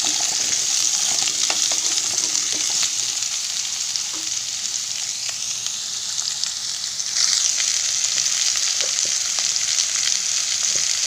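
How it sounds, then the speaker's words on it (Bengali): Potato and pumpkin sautéing in a pan give a loud, steady sizzle close by, broken by frequent spatula scrapes and stirring clicks, with no talking. "সাথে আলু আর কুমড়োকে একটু সুন্দর করে কষিয়ে নিতে হবে"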